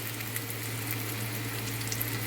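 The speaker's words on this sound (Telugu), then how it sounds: "ఇప్పుడు మనం గ్రేవీకి సరిపడా వాటర్ వేసుకుంటాం." Water is poured into fish curry gravy in a pan, a steady close rush with a faint sizzle over a constant low hum.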